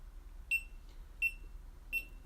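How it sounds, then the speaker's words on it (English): A GoPro Hero camera gives three short, sharp electronic beeps, evenly spaced about two-thirds of a second apart, close and clear over a faint background hum. "if you notice in this video, this annoying beeping sound"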